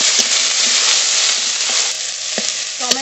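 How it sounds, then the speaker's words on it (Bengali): Onion, tomato, bay leaf, dried red chilli and whole cumin fry in mustard oil in a kadai with a dense, continuous close sizzle and a few light stirring knocks. "তেজপাতা, শুকনো লঙ্কা, গোটা জিরে ফোড়ন, পেঁয়াজ কুচি, টমেটো কুচি একসঙ্গে একটু ভেজে নেব।"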